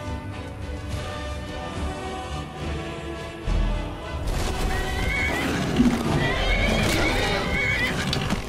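Horses in the video game Skyrim whinny and neigh during a fight, shrill calls repeating over a steady rumble of battle noise and clopping, with occasional thuds.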